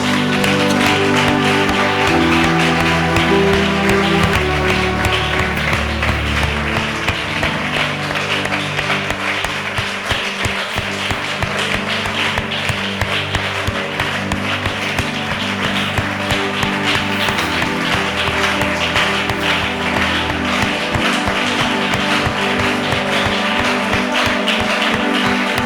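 A church congregation at a charismatic worship service applauds and acclaims together, dense sustained clapping running steadily under loud music throughout.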